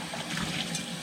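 Water rinses over freshly dyed fly tying materials in a short, steady splashing trickle. It is close and continuous, with no talk.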